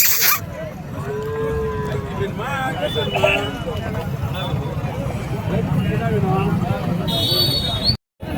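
Cattle, including native heifers and calves, low amid the crowded bustle of a large cow market in Tirupattur district. Moos rise repeatedly over constant background chatter, and people talk nearby.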